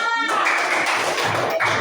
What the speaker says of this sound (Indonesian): Tepuk tangan untuk Nanda dan Mutia.